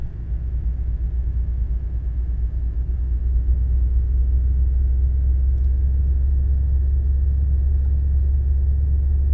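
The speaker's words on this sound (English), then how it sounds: "I'm wondering how close this is to the real truck sound." The engine of a 2017 Scania S730 truck in Euro Truck Simulator 2 drones as a steady, loud, deep rumble that swells slightly and then holds level throughout.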